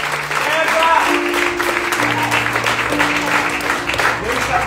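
A church congregation claps steadily and loudly throughout a sermon, with voices and sustained musical tones mixed in underneath.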